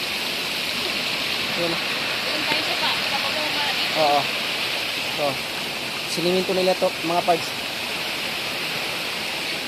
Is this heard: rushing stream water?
yes